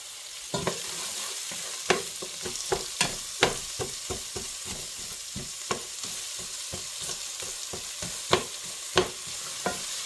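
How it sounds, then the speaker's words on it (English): Garlic fries in a hot pan with a continuous soft sizzle, punctuated by irregular sharp scrapes and taps of a spoon stirring it, close up with no voices. "And I'm going to throw straight in with my garlic."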